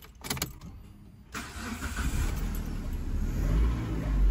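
A Proton Persona car engine with newly replaced engine mounts starts with a short crank, then settles into a steady, close, loud running rumble that builds slightly toward the end.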